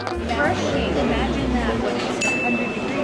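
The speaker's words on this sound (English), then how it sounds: "do the on-camera cheers with our martinis" Martini glasses clink together in a toast at a restaurant dinner, one bright ringing chink with a lingering high tone over steady dining-room chatter and background music.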